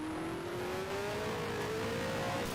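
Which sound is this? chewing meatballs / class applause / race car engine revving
race car engine revving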